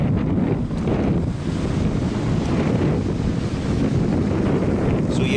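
Sea water crashes against rocks on the NC 500 coast at sunset, a steady loud surging wash mixed with wind rumble on the microphone, with no talking.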